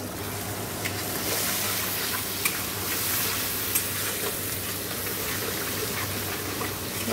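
A spice paste with potatoes for a rohu fish curry sizzles and is stirred in a hot pan, giving a steady, close, dense frying hiss with occasional faint scrapes.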